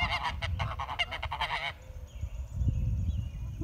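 Geese on a homestead honk loudly and close in a rapid cluster of calls during the first couple of seconds, followed by quieter low rustling and background noise.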